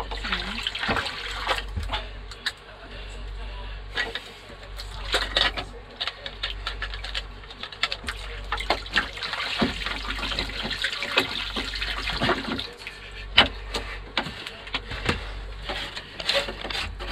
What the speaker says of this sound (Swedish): Nu kommer det in massa vatten här.